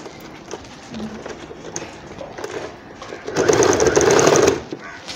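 Sewing machine stitching the hem of an umbrella frock, a steady fast mechanical whirr that rises into a louder, denser run near the end, close up with a few faint background sounds.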